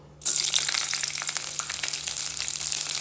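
Garlic frying in a hot pan for a home-cooked vegetable dish: a bright, steady crackling sizzle that starts abruptly and keeps going close up, with no talking over it.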